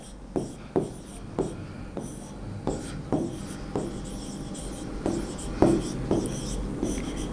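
Marker or chalk writing on a board during a biology class on sugars, a series of scratchy strokes in an uneven rhythm, close and moderately loud with no talk over it.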